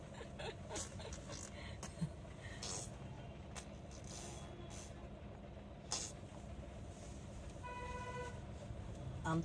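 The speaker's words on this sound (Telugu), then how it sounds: "హారన్ కొట్టు, హారన్." A vehicle horn gives short toots amid faint traffic and road noise, with brief voices nearby.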